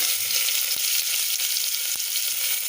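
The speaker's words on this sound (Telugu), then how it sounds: "ఆనియన్స్ బాగా బ్రౌన్ కలర్స్ వచ్చేలాగా ఫ్రై చేయాలి" Onions frying with cinnamon and cloves in a pan for mutton curry, a steady dense sizzle throughout with a few sharp crackles and pops, close and fairly loud, no voices.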